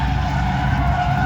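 Drift cars running tandem laps at a drift event, tires skidding in a steady, loud, continuous roar of engine and rubber with no pauses.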